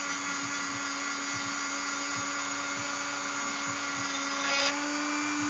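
Steady broadband rasp of worn sandpaper rubbing a cheese knife being sanded to an edge, continuous and close with a low machine hum running underneath and a brief louder scrape near the end.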